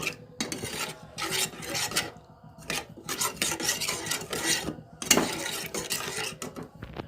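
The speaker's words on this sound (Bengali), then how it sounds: "টক দইটা দিয়ে ভালো করে নাড়বো, বেশ একটু নেড়ে" A spoon scrapes and rubs through chana masala gravy in a pan as marinated sour yogurt is stirred in. The scraping comes in repeated close rasping strokes with brief pauses between bursts.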